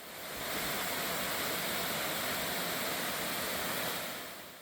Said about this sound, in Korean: 거대한 안반을 따라 시원한 물줄기가 떨어집니다.